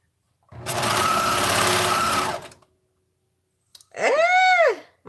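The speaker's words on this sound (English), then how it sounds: "My serger does not like" A serger stitches a thin fabric layer in a steady, fast whirring run of about two seconds, then after a pause gives a shorter burst that rises and falls in pitch, with no voices.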